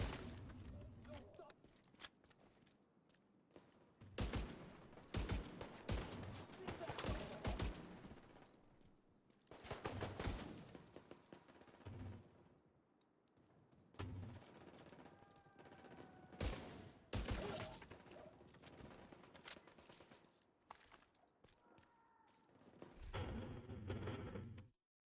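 Automatic gunfire in a video game comes in several rapid bursts separated by quieter gaps, with a player talking between and over the shots, all fairly faint.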